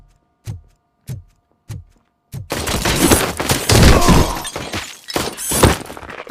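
Gunfire in RoboCop: Rogue City, four spaced, sharp single shots followed by a dense, loud burst of rapid fire mixed with shattering and breaking debris.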